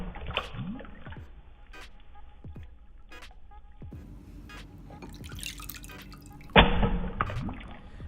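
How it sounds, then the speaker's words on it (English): A Moto G5 Plus smartphone dropped into water several times in a waterproofing test, giving scattered close drips and small splashes, then one sharper, louder splash near the end followed by trickling water, with no voices heard. "Let's drop the phone into water a few more times before we come to the conclusion."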